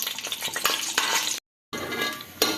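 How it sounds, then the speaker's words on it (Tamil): Cashews sautéing in a hot pan for veg pulao, a steady broadband sizzle with repeated scraping stirs and clinks of a spoon, broken by a brief silent gap, with no talking. "முந்திரி சேர்த்து கொஞ்சம் லைட் ப்ரௌன் கலர் வர வரைக்கும் மட்டும் வதக்கலாம்"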